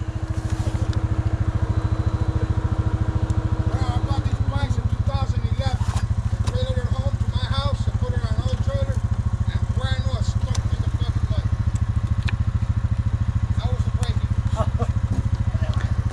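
A motorcycle engine runs close by with a loud, steady, rapid throbbing that holds throughout, while people talk over it.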